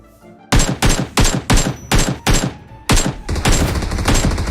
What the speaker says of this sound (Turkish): Adamı tabancayla vurdum